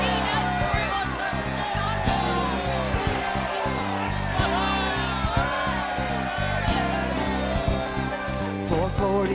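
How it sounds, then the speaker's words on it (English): A large animated crowd shouts, yells and cheers over continuous orchestral music in an animated retelling of the Bible story of Jericho, the voices rising and falling without pause. "Shout! Yell! Scream! So that the heavens can hear you!"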